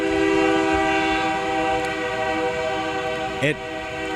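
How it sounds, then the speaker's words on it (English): A freight train rolls past outside a brewery, its steady rumble and sustained horn tones filling the scene, with a brief sharp burst near the end; light talk sits under the noise. "Train's back. Old number 4."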